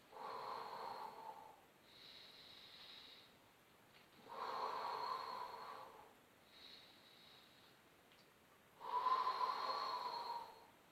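Breathing during an exercise workout, with alternating slow breaths in and out, each a few seconds long, airy and close, the louder exhalations forceful and hissing, with no talking.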